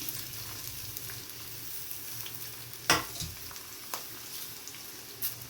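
Onions frying in six spoons of hot oil with mustard seeds for capsicum rice, a steady close sizzle with a few sharp pops and spoon clicks scattered through, no talking.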